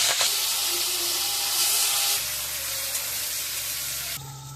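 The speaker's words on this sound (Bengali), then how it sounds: "এবার আমি চিংড়ি মাছ ছেড়ে দিচ্ছি।" Prawns frying in hot oil tempered with dried red chillies and cumin, a continuous moderate sizzle and steamy hiss that shifts in texture partway through.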